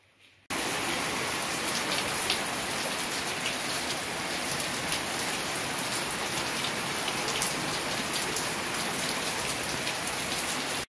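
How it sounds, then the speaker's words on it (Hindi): Heavy rain pours down steadily, a dense hissing roar of drops hitting surfaces close by, constant throughout with no voices. "तो गाइस देखिए कितनी ज्यादा बारिश हो रही है"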